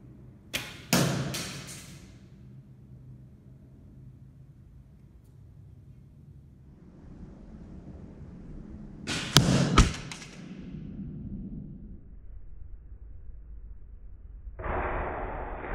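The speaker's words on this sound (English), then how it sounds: "this arrow struck the lower part around this lace right here" Arrows strike Chinese lamellar armor in two separate sharp impacts, each a loud cracking thump with a short rattle, spaced far apart with quiet stretches between and a brief noisy burst at the end.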